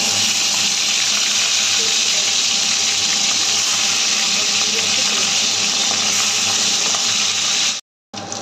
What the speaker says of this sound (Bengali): তেল গরম হয়ে গেছে, মাথাগুলো এবারে ছেড়ে দেবো এক এক করে।